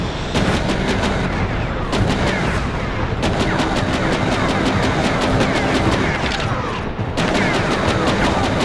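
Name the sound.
gunfire, shells and plasma weapons in video game Mecha Knights Nightmare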